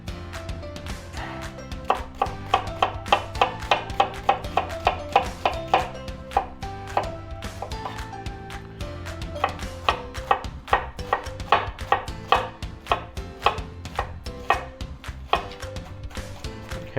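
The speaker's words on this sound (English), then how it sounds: "now our onions are properly chopped" A knife chops onions on a cutting board in quick, even runs of crisp taps, close and loud, with short pauses between the bursts; music plays underneath and there is no speech.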